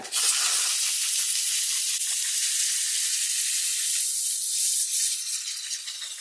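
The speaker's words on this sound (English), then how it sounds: "once you're getting a nice flow of steam, like so" A strong, continuous hiss of steam jetting from a steam cleaner nozzle onto car interior plastic trim, loud and close, holding steady for several seconds before easing slightly at the end.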